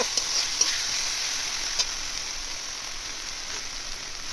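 Spice paste fries in oil in a pan for a Bengali village-style egg curry, giving a steady, even sizzle with a few faint pops and no talking.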